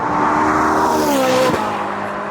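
A Ferrari 458's flat-plane-crank V8, revving toward 9,000 RPM, wails loudly and steadily, pitch climbing then dipping slightly, close and continuous.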